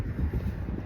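Wind gusting outdoors on a cold day in a Canadian neighborhood, a steady low rumble buffeting the microphone throughout, with no talk.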